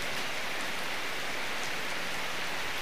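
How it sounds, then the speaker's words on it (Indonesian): Heavy rain pours down outdoors in a steady, dense wash of noise that stays loud and even throughout, with no voices or other sounds standing out. "ini deres lagi teman-teman"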